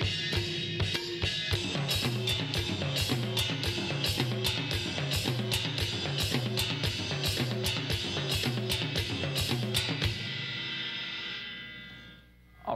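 Full drum kit groove with both hands, the first half of a multi-drum pattern, driving steadily with bright cymbal and tom hits for about ten seconds before the last crash rings out and fades.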